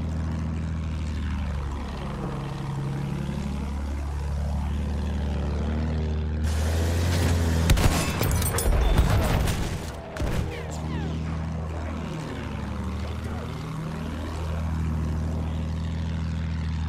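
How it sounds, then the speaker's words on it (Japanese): World War I propeller aircraft in the video game Battlefield 1 drone past with rising and falling pitch, swooping overhead twice, with a burst of loud crackling gunfire between the passes. "飛行機だぞ。"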